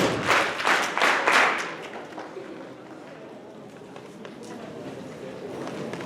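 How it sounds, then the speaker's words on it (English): Students in an 8th-grade morning house meeting clap in a brief burst of applause that fades after a couple of seconds, leaving quieter room noise and scattered sounds. "let's give a big round of clap for Mr. Blaze"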